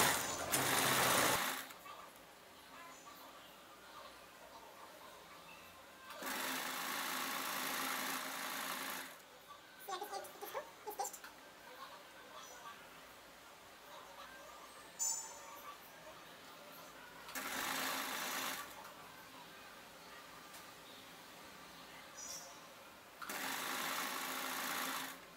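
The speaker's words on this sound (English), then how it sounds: "So now I'll continue this stitching." Sewing machine stitching piping onto a neck design, running in several short bursts of steady motor hum separated by quiet pauses with faint handling sounds; speech is present.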